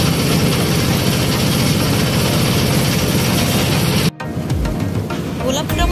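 A loud river boat engine drones steadily during a boat trip toward Sadullapur ghat, a dense, close, continuous roar that briefly cuts out near the end before picking up again.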